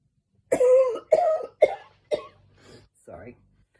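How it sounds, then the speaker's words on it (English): A person coughing up close, a series of about five harsh coughs in quick succession, loud at first and tapering off to weaker, softer ones. "I have a cough."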